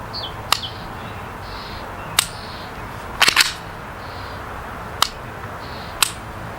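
Crisp, isolated clicks from a Canik TP9SA pistol trigger being dry-fired ring out about once a second or two, with a quick double snap in the middle over quiet background hiss.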